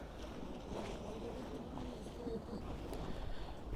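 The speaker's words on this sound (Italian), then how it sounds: "lo sciabordio delle onde, con quel suono, il rumore delle onde che vanno contro la parete" Lake waves lapping against a wall at Salò on a slightly choppy lake, a soft irregular sloshing with low rumbling wind noise, steady and moderately close, with faint voices in the background.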